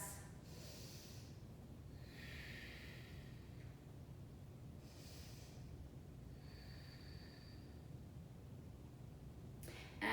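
Deep breathing during a yoga practice, slow, quiet inhales and exhales through the nose repeating several times, soft and close over a low background hiss.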